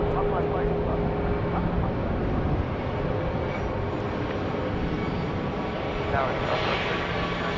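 A Boeing 737 Max 8 airliner roars steadily at Dallas Love Field, a loud, continuous broadband engine rush lasting throughout, with a person talking briefly over it.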